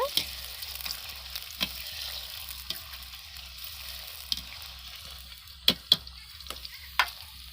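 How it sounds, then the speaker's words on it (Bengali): Quiet sizzle of potatoes frying runs throughout, with sharp metallic scrapes and clanks of a utensil stirring the pan at irregular intervals, a low hum beneath. "আলুগুলো ভাজা হচ্ছে"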